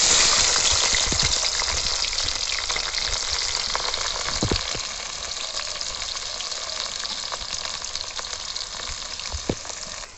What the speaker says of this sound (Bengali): আলু ভাজা তেলে আমি পেঁয়াজ কুচিগুলোকে দিয়ে দেবো।